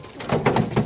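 Pigeons cooing in a fancy pigeon loft, three or four soft throaty coos in quick succession, close and fairly quiet.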